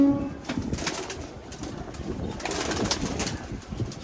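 Pigeons coo softly and continuously in a loft, with a low murmuring texture, occasional rustles and wing movements mixed in. No voices are heard.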